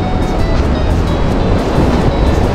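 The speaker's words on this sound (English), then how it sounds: "Oh, the sound of the sea." Sea waves wash and surge along the coast at Hammamet, Tunisia, a loud, steady roar of surf buffeted by wind with no voices.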